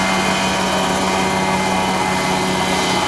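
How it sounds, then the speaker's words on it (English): A Mosquito ultralight helicopter holds a precision hover, its light engine and rotor producing a steady, loud droning buzz at close range, with no talk. "Very nice precision hover by Mario"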